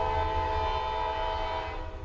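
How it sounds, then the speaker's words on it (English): A train passes close by with a sustained horn blast layered over a steady low rumble of rolling cars, holding loud and continuous throughout without voices. "Nice train, huh?"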